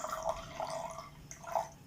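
Pouring a quarter cup of fermented quinoa rejuvelac drink into a glass, soft liquid splashes and drips in a few short bursts, close and quiet.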